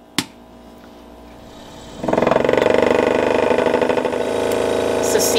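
A cotton candy machine with marshmallow candies inside is switched on after a click, then whirs steadily with a rattling, buzzing hum as it spins up and keeps running.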